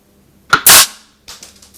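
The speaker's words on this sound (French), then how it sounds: "Premier plomb, premier tir, parfaitement réussi." An Umarex NXG APX air rifle fires a 4.5 mm pellet across a tub: a sharp close crack and a short loud burst, then softer knocks shortly after, with no talking.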